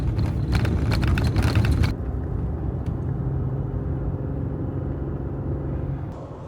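A car drives along a road with a steady low rumble of engine and tyres, loud and close, with a burst of rattly clatter at the start before settling into even cruising noise.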